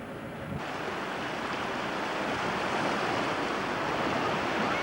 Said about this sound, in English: the army are up there with police and fire with regards to the flooding. The river is still rising.